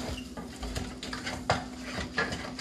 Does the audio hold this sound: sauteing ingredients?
yes